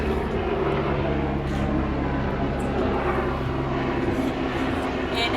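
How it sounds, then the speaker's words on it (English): An airplane passes overhead during an outdoor yoga class, heard as a steady, full, low engine roar that fills the whole stretch without rising or fading. "We got an airplane flying by."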